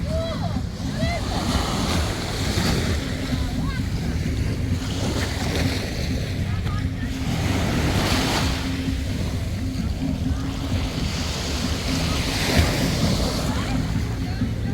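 Waves wash and slosh steadily at the Lisbon waterfront, close by, under heavy wind rumble across the microphone. Faint voices are mixed in.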